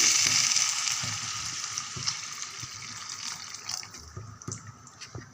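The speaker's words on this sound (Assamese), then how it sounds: "এয়া মই জোখৰ পানী দি দিছোঁ।" Water hits a hot pan of fried chicken with a loud hiss that gradually settles into softer sizzling and bubbling, close up, with no speech.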